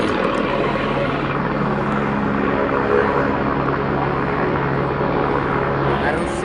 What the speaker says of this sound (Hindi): पर्वत से हेलीकॉप्टर लैंड हो रहा है यहाँ पर